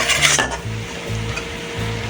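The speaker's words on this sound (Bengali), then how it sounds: "মশলা কষানো হয়ে গেছে।" Spice masala sautéing in a pan for a Bengali lau shak and fish curry with green chillies, a steady sizzle broken by repeated stirring scrapes in a regular rhythm, close and moderately loud with no voices.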